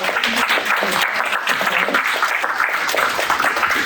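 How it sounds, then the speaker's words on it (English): Conference panelists receive a sustained round of applause from an audience, a dense steady clapping that fills the room at even loudness from start to finish. "if we could just give a last round of applause for our panelists"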